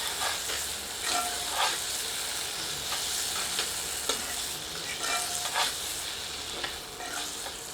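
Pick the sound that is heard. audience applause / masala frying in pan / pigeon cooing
masala frying in pan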